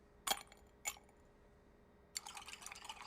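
Ice clinks in a bar glass being chilled for a whiskey cocktail: two sharp close clinks, then a swirling, rattling stir of ice, quiet and without talk.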